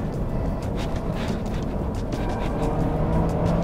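A Honda Elysion with a 5-speed automatic kicks down and accelerates, its engine droning steadily and swelling slightly toward the end, heard from inside the cabin.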